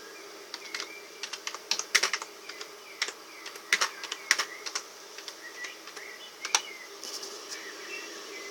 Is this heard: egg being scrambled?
no